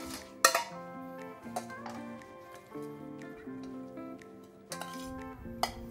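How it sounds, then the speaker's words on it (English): A spoon stirs chopped garlic in a pan while cooking a pulled pork burger, giving light metallic clinks and scrapes at irregular intervals over steady background music. "Put it in, take a spoon, give it a twist."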